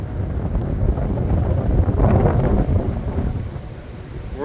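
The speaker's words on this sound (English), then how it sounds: "We're like near blizzard conditions right now because these winds are gusting pretty strong." Strong gusts in a lake effect snowstorm roar as a dense, rumbling blast across the microphone, loud and continuous, swelling and easing slightly over several seconds.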